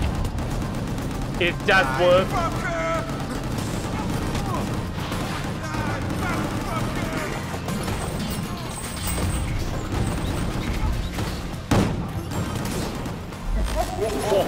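Rapid gunfire and crashing impacts from the video game Gungrave G.O.R.E keep up a dense, loud barrage throughout, with someone talking over the shooting.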